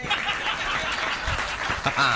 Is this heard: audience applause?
yes